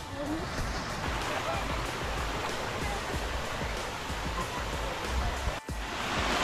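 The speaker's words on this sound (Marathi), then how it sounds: "नवजा धबधब्याला एंट्रन्स केल्या गेल्या आपल्याला एक छोटासा धबधबा दिसलेला आहे" Small waterfall at the entrance to Navaja falls near Koyna Nagar, Satara, a steady broadband rush of falling water filling the scene at close range, continuous and fairly loud throughout with a brief dip near the end.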